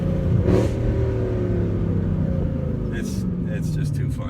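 A Mercedes C63 AMG V8 rumbles loud and close from inside the car, holding a deep throbbing rev that slowly eases off, with brief bits of speech over it.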